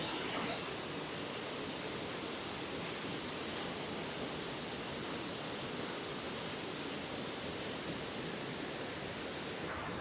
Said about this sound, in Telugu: జోగ్ని వాటర్ ఫాల్స్.